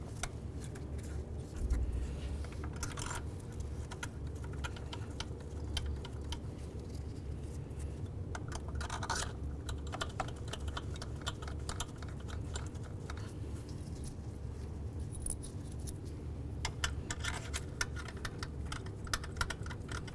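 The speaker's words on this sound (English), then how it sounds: "We'll start in all 3 of our mounting bolts and then we'll snug them up" Rapid ratcheting clicks as the three thermostat housing mounting bolts on a 2006-10 Ford Explorer are started and snugged, sharp close ticks coming in bursts over a steady low hum.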